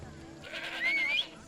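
A horse being called in the video game Assassin's Creed Odyssey, heard as a short, fairly soft whinny or call that rises and falls for about half a second, with no talk.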